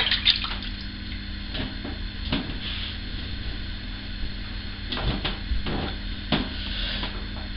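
Running water rinses a safety razor while shaving, a continuous close splashing stream broken by several sharp taps and knocks of the razor.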